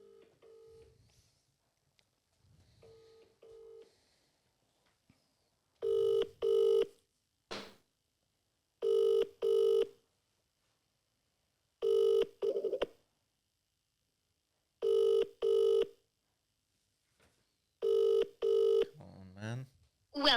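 A UK phone line rings repeatedly in paired bursts with regular pauses, the ringback tone heard close and clear, with faint talk early on and a voice starting at the end.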